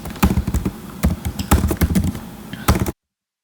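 Quick, close clicks on a computer keyboard come in uneven bursts of typing for nearly three seconds, then stop abruptly.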